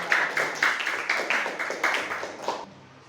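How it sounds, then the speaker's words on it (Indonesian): A classroom group claps hands together in a steady, rhythmic burst of roughly a dozen sharp claps over about three seconds, fairly close and fading at the end, with no talk over it. "Kita tepuk tangan."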